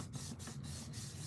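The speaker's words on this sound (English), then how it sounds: "I turn it over and rub it." A burnishing tool rubs back and forth over glued embossed sunflower cardstock, giving a soft, steady scraping rasp with faint rhythmic strokes, close and quiet.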